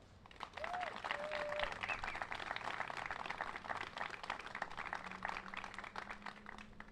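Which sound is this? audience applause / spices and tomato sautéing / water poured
audience applause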